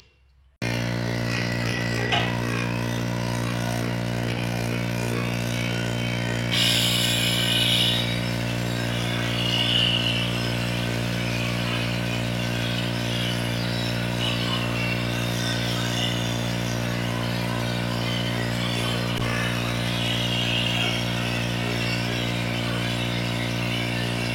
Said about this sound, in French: maintenant, je vais passer un petit coup de sablage pour nettoyer